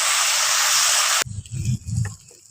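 Spice paste of ground green and dried chillies sizzles loudly in a hot pan, a dense hiss that cuts off abruptly after about a second, leaving softer low sputtering and stirring.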